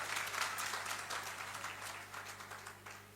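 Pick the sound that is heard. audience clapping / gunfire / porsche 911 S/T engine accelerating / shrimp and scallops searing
audience clapping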